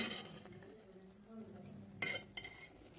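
Brinjal curry cooked with sesame, oil separating at the top, bubbling quietly in a pan. Faint soft sizzling, then a couple of sharp utensil scrapes or clinks near the end.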